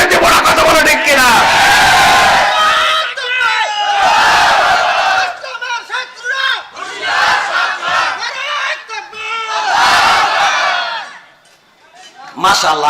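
A large outdoor crowd at a religious gathering roars the Nara-e-Takbir chant in loud, massed call-and-response bursts. The voices swell and fall in waves, with a brief lull near the end.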